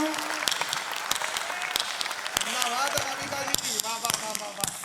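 At a Hindi poetry gathering, a kavi sammelan, the audience claps in sharp, regular beats while a performer's voice sings over the top, the crisp claps repeating steadily across the whole stretch.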